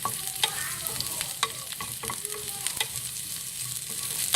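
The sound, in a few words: ginger and garlic frying in a pan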